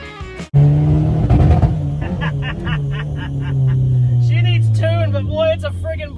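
Budget-painted turbo Honda car being driven, engine close and loud, revving and droning through the gears, with people talking and laughing over it.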